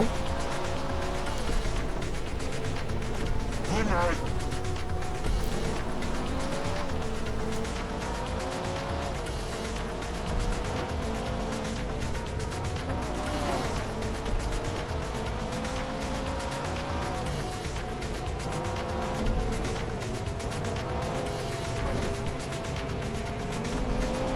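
Racing cars in GTA V during a street race through Vatican City, engines droning and whining continuously with shifting pitch, loud and sustained, occasional clanks and knocks over the roar.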